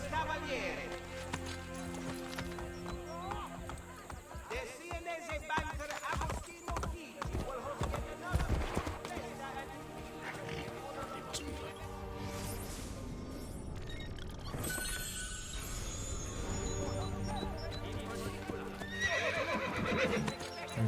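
In Assassin's Creed Brotherhood, a horse gallops with quick clip-clop hoofbeats and whinnies, set among game sounds and crashes while a player talks over it.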